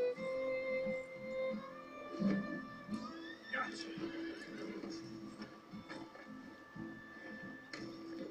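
A horse in Red Dead Redemption 2 gives a loud neigh over game sounds and faint hoofbeats, with someone talking throughout.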